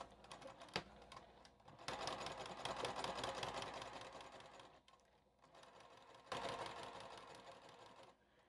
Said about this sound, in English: Just going to sew right on that edge there